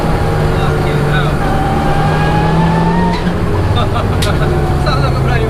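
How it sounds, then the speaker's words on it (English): A turbocharged 340 bhp Peugeot 106 revs hard with a rally-car snarl, its engine note rising and falling in steady loud sweeps across the whole stretch, with people talking over it. "Sounds like a bloody rally car, doesn't it?"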